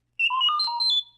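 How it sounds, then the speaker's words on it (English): R2-D2 droid beeping as a page-turn signal, a short bright electronic chirp of warbling tones lasting about a second, clear and alone. "You will know it is time to turn the page when you hear R2-D2 beep like this"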